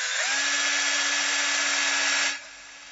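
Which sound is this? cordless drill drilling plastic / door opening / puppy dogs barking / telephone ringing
cordless drill drilling plastic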